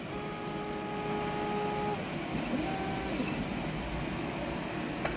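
A CNC router cuts with a 1/4 inch bit, a steady mechanical whir with a droning dust vacuum underneath, constant and fairly loud, a few faint tonal whines rising and fading over it.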